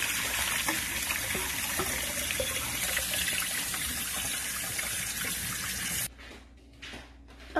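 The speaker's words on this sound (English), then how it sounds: "we are going to drain it and rinse it with cold water" Cold tap water runs steadily over cooked noodles in a sink for about six seconds, then cuts off to quieter dripping and faint handling, with no talking.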